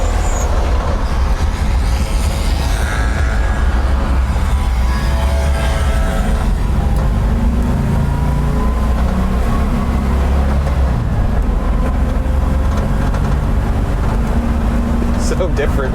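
A 1958 Volkswagen Transporter T2 split-windscreen van drives along with a steady, loud low rumble of engine and road noise filling the cabin, while a voice talks over it at times.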